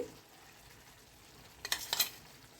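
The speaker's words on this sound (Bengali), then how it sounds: "দেখো এবার এই মশলাটাকে ভালো করে মিশিয়ে দিচ্ছি" Spice mix stirred into a potato dish in a pan, a quiet stretch giving way to a few short scraping strokes near the end, with no voices.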